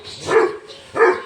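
A Doberman and a street dog bark: two loud, close, sharp barks about half a second apart, with no talk over them.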